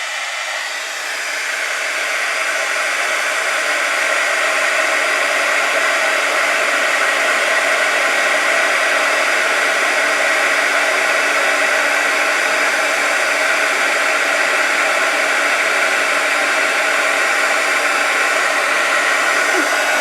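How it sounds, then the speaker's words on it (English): Heat gun blowing hot air during card making with cut dies, a loud steady whooshing hiss that spins up in the first second and then holds constant for the full twenty seconds, with no talking. "I'm going to use my heat gun."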